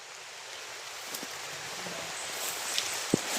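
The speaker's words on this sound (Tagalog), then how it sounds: "Sobrang ulan talaga tol." Heavy rain pours in a steady hiss, fairly faint and even, with a few small knocks and a sharp tap near the end.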